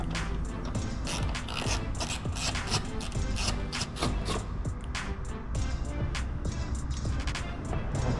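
A 4 mm hex key ratchets and clicks as bolts are loosened from the side panel of an Aprilia RSV4 motorcycle, with busy, continuous close-up metallic rattling and scraping.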